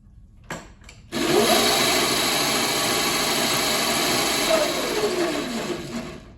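A 2000W MY1020 electric motor for a 60V Razor Ground Force drift kit runs up in its first speed mode. It settles into a steady, loud, even whine with a brief tick just before it starts, and no voices are heard.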